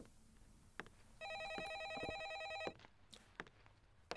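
A telephone rings in the horror video game A Favor, one electronic trilling ring lasting about a second and a half over a quiet, eerie background.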